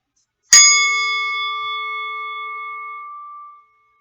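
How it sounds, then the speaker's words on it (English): A meditation bell is struck once and rings out with a clear, sustained tone that slowly fades over about three seconds, heard alone in a quiet room. "Count how many breaths you can do while the bell is ringing."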